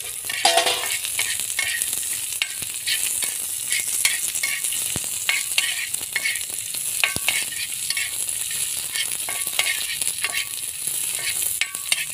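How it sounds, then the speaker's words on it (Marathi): Onions roasting on a hot tawa give a steady sizzle with scattered stirring scrapes and sharp clicks, close and continuous, alone without talk. "आता प्रथम कांदे भाजून घ्यायचे आहे आपल्याला।"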